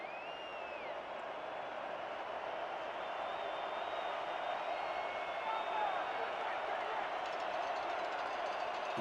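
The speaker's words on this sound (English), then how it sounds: "The crowd is starting to get loud here in Denver." Stadium crowd in Denver during a football game keeps up a steady, swelling roar that fills the whole stretch, with faint higher cheers and whistles rising above the din.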